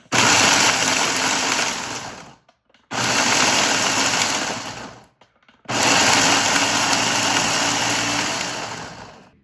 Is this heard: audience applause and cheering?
no